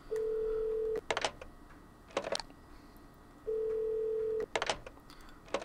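In a college basketball management video game, a phone line plays two long steady ringback tones, each followed by quick bursts of dialing beeps, a clean repeating pattern with faint background noise.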